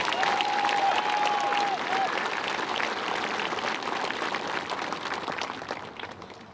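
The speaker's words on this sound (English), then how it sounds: "Can we get another round of applause for the class of 2022?" Steady applause from a large crowd at a 2022 commencement ceremony, with a brief whistle early on, continuing at an even level and tapering slightly toward the end.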